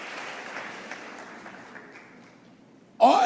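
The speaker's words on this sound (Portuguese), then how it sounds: "Dê um aplauso para o Senhor só por isso" Congregation applauding during a church service, a dense, steady clatter of many hands that slowly thins and fades, then a sudden loud burst right at the end.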